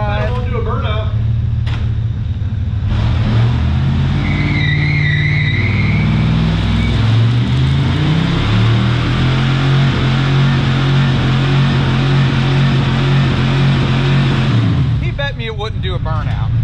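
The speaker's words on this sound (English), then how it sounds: "Do a burnout." A 1995 Chevy Impala SS with a 5.7L LT1 V8 and 4L60E swap does a burnout, the engine revving hard and droning loudly for about ten seconds as the tires spin, with voices talking over it.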